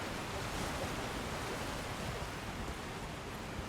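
Waterfall in the underground Deeproot Depths of Elden Ring, a steady broadband rush of falling water, constant and enveloping with no pauses.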